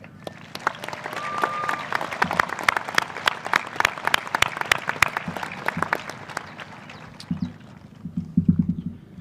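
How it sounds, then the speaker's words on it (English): Crowd applause at a high school graduation ceremony, steady scattered clapping across the whole stretch, moderately loud with a few sharper bursts near the end. "Let's give them a big round of applause."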